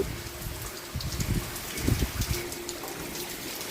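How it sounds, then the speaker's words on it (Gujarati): Light morning rain falling steadily outdoors, a soft continuous patter and hiss of drops on surfaces with no distinct pauses, heard close and without talk. "સવારમાં કોરમાં ચાલુ થઈ ગયો છે વરસાદ"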